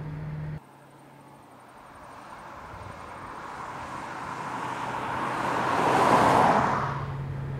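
A classic muscle car drives along country roads, its engine a steady broadband rumble that swells to a peak and then eases off, with no talk over it.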